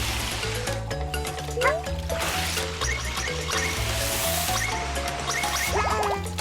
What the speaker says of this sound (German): Ich muss hier die Blümchen gießen